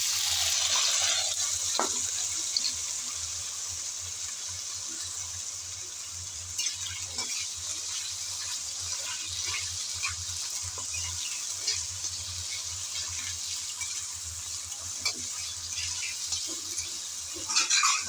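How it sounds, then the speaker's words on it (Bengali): Cut potatoes tipped into hot oil crackling with panch phoron, producing a bright, continuous hiss of frying that holds steady throughout, broken by occasional small pops and a soft clunk early on. "পাঁচফোড়ন ফুটতে শুরু হলো, এখন দিয়ে দেব কেটে রাখা আলু"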